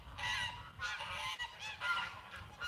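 Geese honking continuously at a distance, an overlapping chorus of loud, agitated calls with a low rumble of background noise under them.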